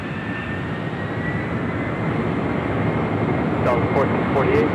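A FedEx heavy jet roars down runway 25 left at Los Angeles International Airport on its takeoff run, a broad steady engine rumble slowly building in loudness, with faint chirps near the end.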